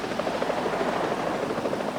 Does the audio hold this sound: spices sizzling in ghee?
no